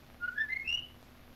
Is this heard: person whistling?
yes